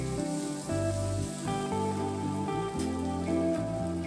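Spiny gourd and potato curry frying in a pan while being stirred, a dense, continuous crackling sizzle like rain on a surface, close and steady, with a spoon moving through it.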